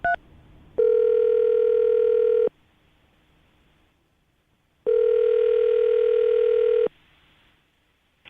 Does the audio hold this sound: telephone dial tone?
yes